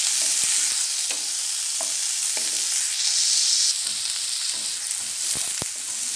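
Finely chopped tomato sautéing in a pan for spinach soup, a bright steady sizzle close up with a few light stirring taps scattered through it, and no voices.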